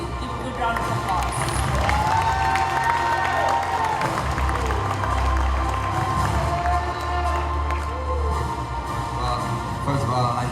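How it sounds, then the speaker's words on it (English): Audience at an awards gala applauds and cheers as a CEO is welcomed to the stage, a steady dense wash of clapping mixed with crowd noise and some voices talking through it. "Please welcome CEO, Kinship Villages, Anthony Townsend. Give a good round of applause."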